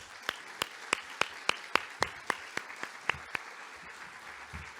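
Audience welcoming the deputy curator Anita Feldman at an O'Keeffe and Moore symposium with sparse clapping: about a dozen distinct, evenly spaced claps, moderately faint, with no talk over them.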